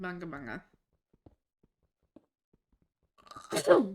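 A single sharp sneeze bursts out loudly near the end, after a short stretch of talk and a long quiet pause during a casual Minecraft session.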